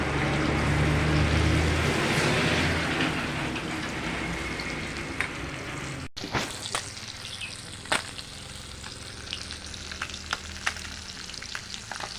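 Small fish fry in hot oil in a pan, a dense continuous sizzle with the crackle thinning slightly partway through, broken by occasional sharp clicks of a utensil stirring.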